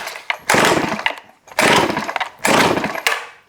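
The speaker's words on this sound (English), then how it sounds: "Now I'm going to pull it over for a few times without the switch on, just to kind of get things cycling through here." Recoil starter on a Neotec 892 Stihl-clone chainsaw, pulled three times with the ignition switched off, each a loud, close rasping whir of the cord cranking the engine over without firing, separated by short pauses.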